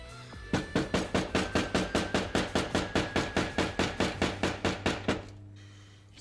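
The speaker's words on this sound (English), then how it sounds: "I'm actually going to tap it in ever so gently with a hammer" Around twenty light, evenly spaced hammer taps, close and steady in rhythm, gently tapping a part into a Nerf Longshot blaster, before they stop and a faint hum remains.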